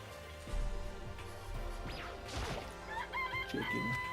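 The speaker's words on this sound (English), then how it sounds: "Chicken noise." A cartoonish rooster crow and clucking from the video game Danganronpa: Trigger Happy Havoc, with a crash-like hit and rising electronic tones, heard clearly over a steady game background.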